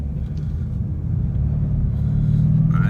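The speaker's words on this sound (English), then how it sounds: "let's slow down now and I'll do a little first gear stab and a roll on" A car on Continental ExtremeContact Sport tires pulls away hard in first gear on dry pavement, the steady low engine rumble swelling and building as it accelerates, with no talk over it.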